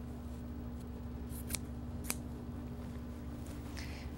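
Scissors snip through denim fabric for a country apron, two sharp distinct cuts standing out close against a steady low hum of the room.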